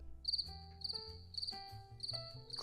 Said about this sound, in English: Crickets. That's what I heard.